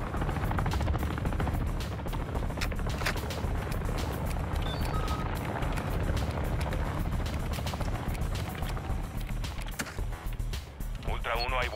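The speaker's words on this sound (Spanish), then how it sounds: "El helicóptero de ataque está loco." An attack helicopter in the video game Call of Duty DMZ gives off a steady, loud rotor drone and rumble, with radio-style voices talking over it throughout.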